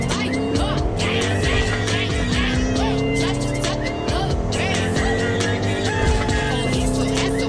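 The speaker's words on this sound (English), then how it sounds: "Oh, I'm gonna take my car again." Car engine driving in Fortnite, a steady loud motor drone with a rising pitch and occasional tire squeals, heard under game effects and squad voices talking.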